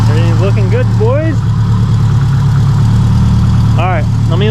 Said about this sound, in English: Idle's coming down as it warms up.